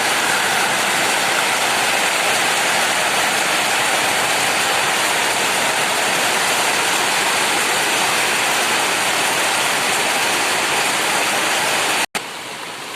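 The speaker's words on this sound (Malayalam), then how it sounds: "ഷീറ്റുമ്പോൾ വെള്ളം വീഴുന്നുണ്ട് കണ്ടോ" Rainwater runs off a roof sheet in a loud, continuous rushing stream that holds steady and then drops abruptly near the end.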